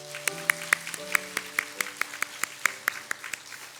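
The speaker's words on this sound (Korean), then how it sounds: "박수하도록 하겠습니다." Church congregation at a Sunday service clapping in steady, evenly spaced beats over sustained keyboard tones, moderately close and fairly light, lasting a few seconds.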